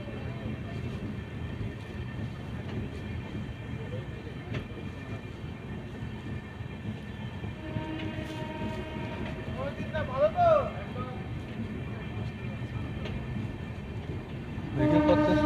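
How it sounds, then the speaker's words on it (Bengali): Amrit Bharat Express train rolling into Dankuni Junction on its first inaugural Sealdah to Varanasi run, with a continuous rumble of wheels and carriages, short horn toots near the end, and voices faintly under the noise. "অমৃত ভারত এক্সপ্রেস চলে এলো ডানকুনি জাংশন"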